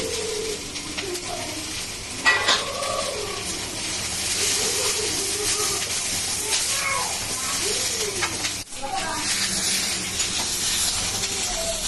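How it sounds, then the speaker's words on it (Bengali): Chopped capsicum sizzles in a pan with ginger while soyabean chili cooks, a steady loud frying hiss throughout with a few clinks and faint voices in the background. "এর মধ্যে দিয়ে দিচ্ছি কেটে রাখা ক্যাপসিকাম"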